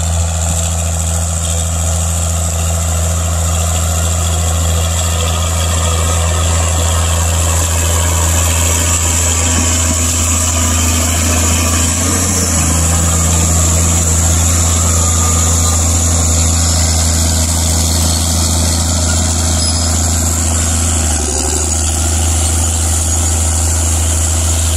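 Tractor engine running steadily, heard from inside the cab during overnight wheat drilling, a loud, constant low hum with a deep tonal drone and faint vibration, unbroken and with no talk.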